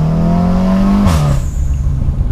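A tuned 2018 VW Golf R 7.5 engine drones loudly and close as it accelerates, then its pitch drops with a shift around midway before pulling again, with a brief hiss of wind and road noise and no talking.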